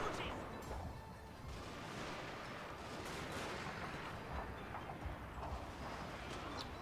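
A line of infantry rifles fires in the Fall of the Samurai game, giving faint, distant crackling volleys with scattered sharper reports over a steady battlefield rumble.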